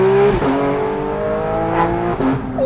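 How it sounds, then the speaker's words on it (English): Porsche GT3 RS with a 4.5-liter engine accelerating hard in loud exhaust mode, a sustained roaring exhaust note rising in pitch with brief dips at gear changes, close and very loud. "Put in loud exhaust mode."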